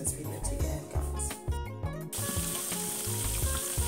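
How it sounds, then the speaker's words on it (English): Marinated seafood for a Nigerian seafood stew sizzles loudly and steadily in a hot frying pan, a continuous close crackle of frying oil. "So right now it's time for me to transfer it into my frying pan and fry."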